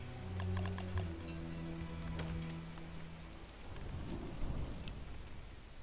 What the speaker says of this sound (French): on va se taper la saison de pluie